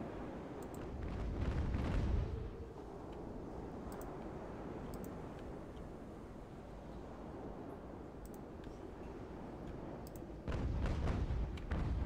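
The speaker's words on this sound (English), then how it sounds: "Who's shooting already?" Warship cannon fire in the Ultimate Admiral Age of Sail naval game, distant booming broadsides rumbling over a steady sea ambience, with a louder salvo at the start and another near the end.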